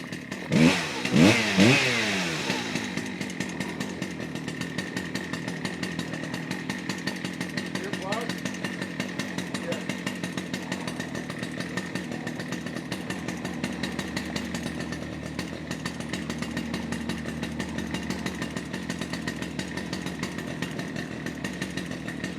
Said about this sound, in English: while the saw warms up